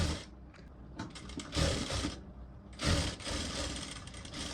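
A sewing machine stitches a double seam on a single katori blouse, running in close bursts of rapid mechanical whirring that stop briefly and start again, with no voice over it.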